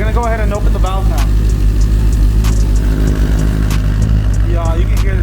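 A BMW M3 with the S65 V8 engine revs with its Valvetronic exhaust valve open, a loud, steady engine roar with rising rev sweeps near the start and end, while people talk over it.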